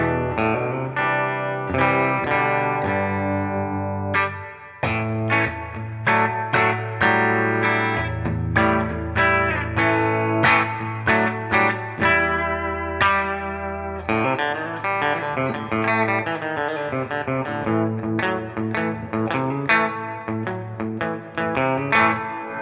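Electric guitar played through a Bugera V22 Infinium valve amp in a bedroom, a continuous run of chords and picked notes with drive and a chorus-like sheen, alone and close.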